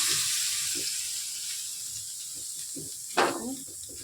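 Water splashed onto a hot tawa while making semolina dosa gives a sudden bright hiss that flares up and fades over about a second, close by, over a steady background hiss.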